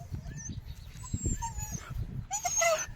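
A farm dog whimpers near its puppies in a village yard, with thin, high whines coming in short bursts over a low background rumble, fairly faint and growing a little louder toward the end.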